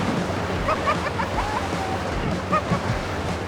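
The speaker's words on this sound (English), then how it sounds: "the wind conditions here today is crazy" Strong gusty wind blasts the microphone at the Lincoln Rock lookout, a continuous heavy rumbling roar with faint voices barely heard beneath it.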